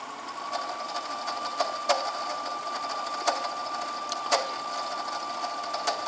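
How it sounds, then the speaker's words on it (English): A cassette tape deck rewinds, its reels giving a steady mechanical whir with occasional sharp clicks, close and alone without talk. "the cassette, the reel actually making that little noise there"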